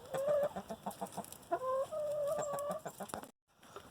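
Chickens clucking close by inside a coop, a burst of rapid, overlapping clucks and squawks over a few seconds before cutting off.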